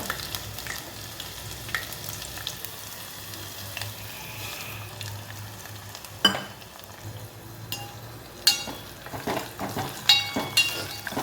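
Sesame seeds sizzle in hot oil in a pan as tempering for a raw prawn and gongura curry, a steady close crackle joined later by metal clinks and scraping of a spoon against the pan.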